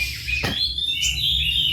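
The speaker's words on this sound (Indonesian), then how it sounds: "kacer giras" An oriental magpie-robin sings close and loud, a bright whistled phrase with a sharp rising note and quick chirps over a steady low background hum.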